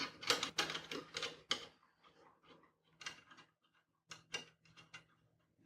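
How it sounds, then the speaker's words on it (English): A wrench tightens airline fittings during cylinder maintenance on an OCO Labs SuperC, giving a quiet close series of metallic clicks and ratcheting taps in short irregular bursts separated by pauses. "We can use our wrench to finish tightening down the fittings."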